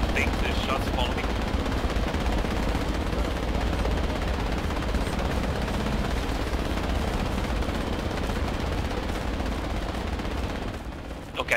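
Sustained heavy gunfire in the military shooter Project Reality, dense continuous automatic bursts and distant blasts rumbling for about eleven seconds with a helicopter-like drone beneath, loud throughout and fading only at the very end.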